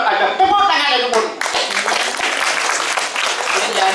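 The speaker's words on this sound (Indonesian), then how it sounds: "Tepuk tangan aja pun." Audience at a Balinese drama gong comedy show breaking into dense applause and clapping, starting after a short spoken line and continuing loud and close for several seconds.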